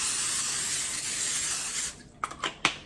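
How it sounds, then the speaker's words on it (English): Non-stick butter spray hisses from a can onto a cooking pan in a continuous bright burst for about two seconds, followed by a few short sharp spritzes. "I'm going to take my butter spray, my non-stick spray, whatever you want to call it. I'm going to spray my pan down really good."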